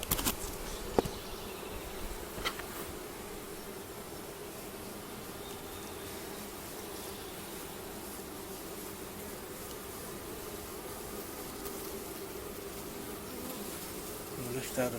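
Honeybees buzz steadily from an open hive in an apiary, a dense, continuous drone close by with a soft knock near the start and no talking.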